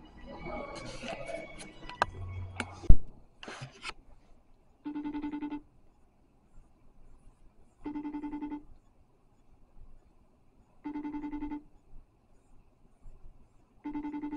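Telephone ringback tone on an unanswered outgoing call, four evenly spaced two-tone rings about three seconds apart, clear and alone after brief muffled handling noise and a voice at the start.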